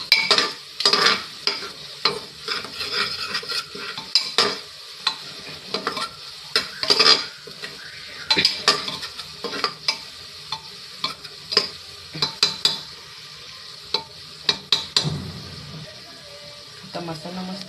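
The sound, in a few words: turmeric and onion masala being fried and stirred in a pan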